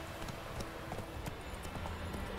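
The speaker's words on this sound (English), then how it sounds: "Faster, you goddamn horse." Galloping hooves in Witcher 3: Wild Hunt pound steadily in a fast, rhythmic clip-clop over a busy game soundscape, with no talking.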